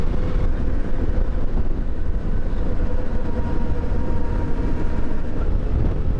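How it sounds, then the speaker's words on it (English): A large train rumbles steadily alongside a road, heard as a continuous low, loud roar without a break. "Paralleling a mighty train."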